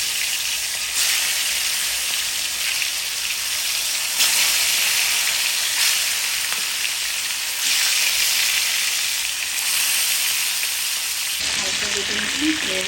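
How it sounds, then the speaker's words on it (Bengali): Chicken pieces fry in hot oil with a continuous bright sizzle and crackle, steady and close, with a few surges of spatter and a brief clatter near the end. "হালকা ভেজে নিচ্ছি, হয়ে গেছে না মাংসটা।"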